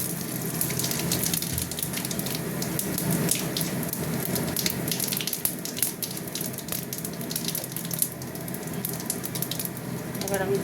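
Bay leaves, dried red chillies and whole cumin sizzle and crackle in hot oil, a steady frying hiss filling the scene throughout, with no voices.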